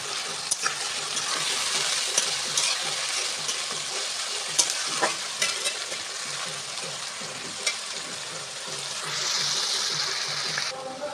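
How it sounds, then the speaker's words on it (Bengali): Sliced onions fry and sizzle in oil as they are stirred in a home kitchen, a close, steady frying hiss broken by sharp scrapes and clinks of the spoon against the pan, with no voices. "পেঁয়াজগুলো দিয়ে মিনিট পাঁচের মতো নাড়াচাড়া করলে পেঁয়াজগুলো লাল লাল করে ভাজা ভাজা হয়ে যাবে"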